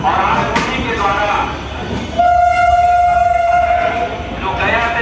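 An Amrit Bharat Express train rumbling along at a station, with a loud sustained horn blast lasting about two seconds that sits over the steady rolling noise.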